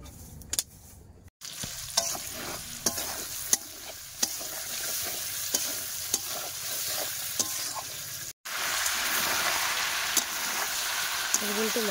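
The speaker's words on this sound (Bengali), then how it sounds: "কিন্তু মাংস কষাই হচ্ছে" Meat being stirred and fried in a large wok over a wood-fired clay stove, with a steady sizzle and repeated scraping strokes of the ladle throughout.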